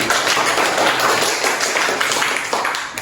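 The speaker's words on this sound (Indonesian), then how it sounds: "Oke, beri tepuk tangan." A class of students in an Indonesian classroom claps loudly and continuously, giving a dense, steady wash of applause that tapers slightly at the end.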